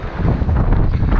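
Strong wind buffeting a microphone high up in a tree, a continuous loud low rumble with rustling, heard alone.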